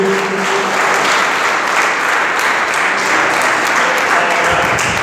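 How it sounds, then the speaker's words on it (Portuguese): A church congregation applauds in praise during a Portuguese-language service, a dense, steady wall of clapping that stays loud and close for the whole stretch with no break. "E a igreja aplaude glorificando"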